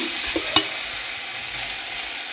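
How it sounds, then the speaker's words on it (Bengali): Masala with cumin sizzling steadily in a pan, a continuous bright frying hiss broken by a couple of quick utensil clinks as it is stirred, close and with no talk. "ভেজে নেবো যাতে গন্ধটা চলে যায় কাঁচা গন্ধটা"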